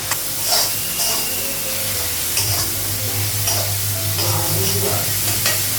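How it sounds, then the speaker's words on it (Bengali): Spice paste fries in a pan over a gas flame, a continuous close sizzle and hiss with repeated stirring scrapes spaced about a second apart and a low background hum, no voices. "মশলাটা ভাজা হয়ে গেছে"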